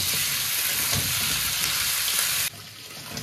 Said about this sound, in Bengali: এখন আমি আলুটাকে ভালো করে লাল লাল করে ভেজে নেব।